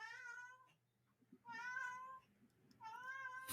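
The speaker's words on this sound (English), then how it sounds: "Can you hear the cat?" A cat meows three times close by, each call long, clear and drawn out with short quiet gaps between, with faint background noise and no talking.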